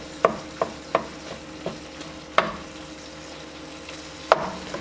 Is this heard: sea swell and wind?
no